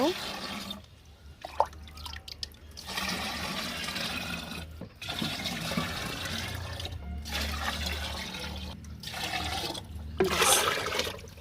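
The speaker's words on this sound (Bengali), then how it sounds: "আর একটু খোলের জল তো এটা নিয়ে নেব" Oil cake water for plant fertilizer is poured and scooped in a rooftop garden, with splashing and trickling liquid running through most of the stretch alongside speech.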